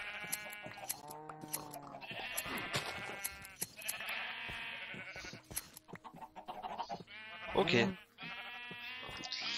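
Sheep bleating in the video game Minecraft, several repeated high bleats close by with someone talking over and between them.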